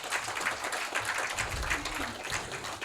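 Applause from a forum audience at a peace conference session, moderate and continuous, with a low murmur and some faint talk mixed in beneath the clapping.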